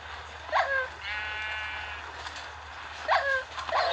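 Sheep bleating in the Minecraft video game, with a quivering bleat near the start and two more toward the end, fairly close and clear over a low steady hum.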